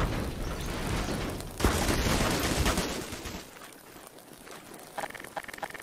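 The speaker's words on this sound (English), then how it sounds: "Wait, what are you shooting at?" Gunfire in the World War II mode of Garry's Mod, a dense fusillade of game shots that fills most of the clip, loud at first and then thinning into scattered, fainter bursts.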